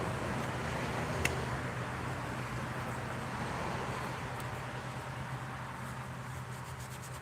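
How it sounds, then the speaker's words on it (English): Steady traffic on a busy road makes a continuous, even rumble and hiss of passing cars, with no voices over it. "Yeah, I live on a busy road, guys."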